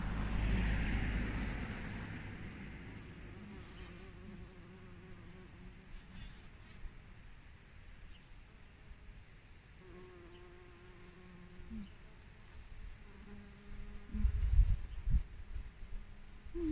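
Bees buzzing among strawberry plants in a sunny, windy garden, a steady faint drone with a few brief closer passes, with low wind rumble underneath.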